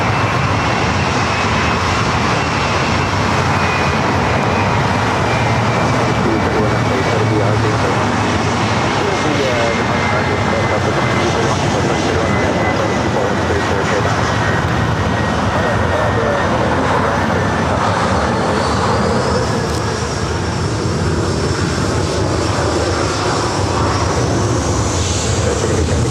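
A Southwest Airlines jet takes off at LAX bound for San Jose, a loud continuous engine roar with a rising whine that stays strong throughout, while a voice talks over it.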